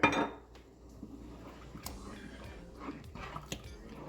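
Chili sauce stirred in a cooking pot over medium heat, with a loud clank of metal at the start followed by soft, irregular scrapes and taps of a utensil against the pot.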